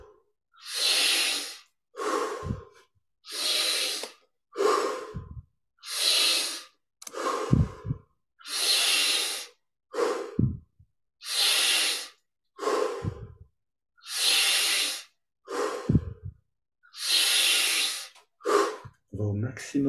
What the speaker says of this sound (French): Maintenant, on augmente petit à petit l'amplitude des respirations.